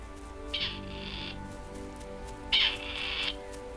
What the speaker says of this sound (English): Already in February, males of the grey partridges are courting their hens.